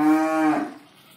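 A single loud, close cow moo from the cattle in a livestock dealer's pen lasts about half a second, then fades into quiet.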